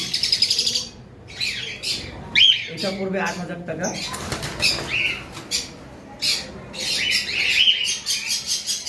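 Several cockatiels, including cream pied and albino birds with hand-fed babies at a farm, give busy chirps, squawks and bursts of wing flapping up close, with someone talking over the birds throughout.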